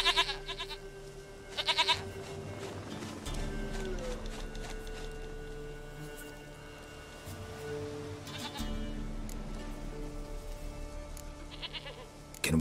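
A goat in The Witcher 3 bleats in short, nasal bursts near the start, then quieter rhythmic bleats and rustling continue over a steady game ambience, with a final bleat at the end.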